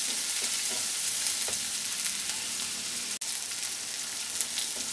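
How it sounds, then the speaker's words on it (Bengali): Tomatoes and spices for Bengali moong dal are stirred in a hot pan, making a continuous sizzle with soft scraping strokes and one sharp knock partway through, with no voices. "এখন এটাকে একটু নাড়তে থাকবো 1-2 মিনিট"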